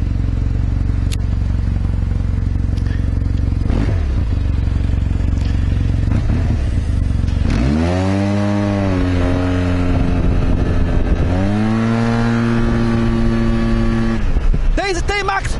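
A Yamaha TMAX 530 scooter fitted with Malossi parts: its engine drones loudly, then climbs twice in sweeping bursts of acceleration, with voices heard over the running engine.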